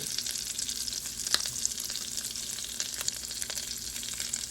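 Ginger paste sizzles steadily in an oily pan for a shrimp bowl, a constant bright hiss with a few sharp pops and spits, close and alone.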